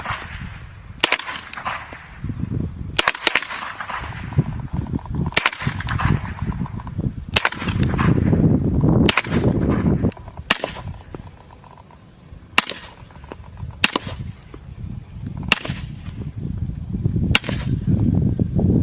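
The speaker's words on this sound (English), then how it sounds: "So that was the M9A3, or the suppressed pistol, both suppressed and unsuppressed with different kinds of ammunition" An M9A3 pistol fires repeatedly outdoors, both suppressed and unsuppressed with different kinds of ammunition; about a dozen sharp, spaced reports ring out one by one, each cracking loud and close over a low, rumbling background.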